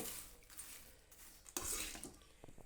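Utensil scraping and clinking against a pan as rice is stirred on the stove, quiet and close, a short burst of louder metal scraping in the middle, no talk.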